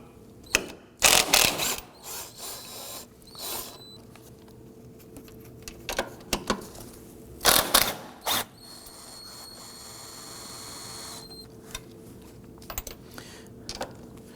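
A ratchet loosens the front strut bolts on a 2001-2009 Volvo S60, giving close, sharp bursts of rapid clicking separated by pauses, with faint handling clatter in between.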